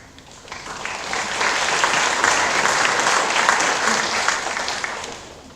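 Applause from an audience at a school welcome assembly for new boys swells from a quiet start into sustained, dense clapping, then eases slightly before the end.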